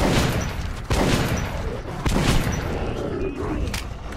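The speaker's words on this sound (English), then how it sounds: "I'm shooting!" Gunfire in Metro 2033: Redux, a dense, roaring barrage of shots with sharp bursts about once a second, loud and close, mixed with growling monster noise and chaotic game sound.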